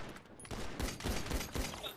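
Gunfire hits bulletproof glass in the video game GTA, a quick burst of several loud, close shots in a row with no talking.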